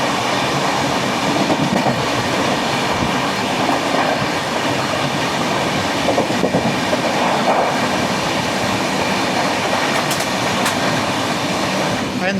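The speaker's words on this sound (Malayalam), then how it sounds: "ഇതാണെന്ന് തോന്നുന്നു ഗുജറാത്ത് സമ്പർക്ക്രാന്തി എക്സ്പ്രസ്" Gujarat Sampark Kranti Express rolls through Okhla station with a steady rumble and clickety-clack of wheels, an even and fairly loud wash of rail noise and a few brief squeaks near the end.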